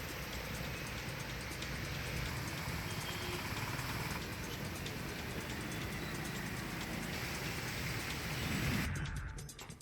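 Heavy unseasonal rain pours steadily in a dense, continuous roar that fills the whole stretch, easing slightly right at the end.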